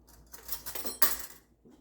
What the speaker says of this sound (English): I'll just get myself a little spoon here